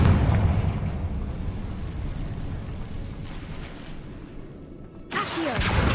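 Confringo blasting spell explosion in Hogwarts Legacy, a deep rumbling boom that rolls and slowly fades, followed by a sharp bright burst near the end.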